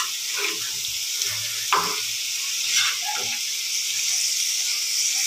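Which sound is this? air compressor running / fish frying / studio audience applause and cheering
fish frying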